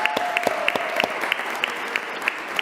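Audience applauding an award winner at a school committee meeting in Springfield, a brief burst of dense, rhythmic clapping from a small crowd, fairly close, with a faint voice over it.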